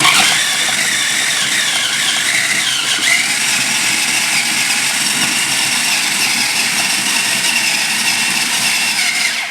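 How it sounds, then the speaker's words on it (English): A food processor blends bread into crumbs, giving a loud, close, continuous motor roar with a churning, gritty texture that holds steady throughout. "So chuck the food processor on, start on the lower speed and work your way up to the higher speed."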